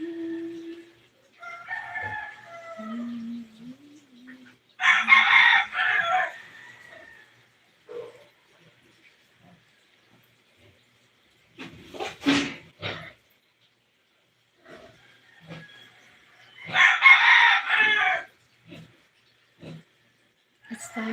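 A rooster crows repeatedly at around 4 a.m. in the Philippines, several loud drawn-out calls spaced across the stretch with quieter clucks and rustles between them, close by and without talk.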